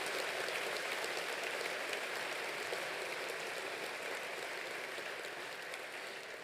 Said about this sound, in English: Please give another round of applause to the faculty and instructors.